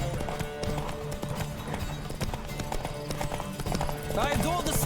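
A horse cantering in the video game Witcher 3, rhythmic hoofbeat clip-clops with a brief whinny near the end, under game music and a voice talking.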